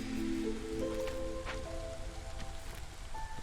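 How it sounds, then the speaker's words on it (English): Steady rain patters on surfaces in the PC strategy game Against the Storm, a dense continuous hiss under soft tonal game music and chimes, moderately loud and unbroken throughout. "I think the rain is letting up a bit"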